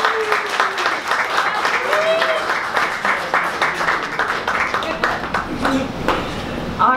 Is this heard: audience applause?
yes